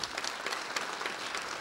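Applause from an audience at an Italian medical and dental profession awards day, honouring re-elected colleagues; steady, dense clapping throughout, fairly close and moderately loud, with no speech over it.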